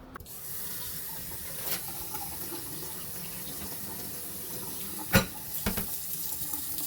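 Kitchen tap running to wet a Scrub Daddy sponge: a steady hiss of flowing water continues throughout, with a few sharp knocks and clicks near the end as the sponge is handled under the stream.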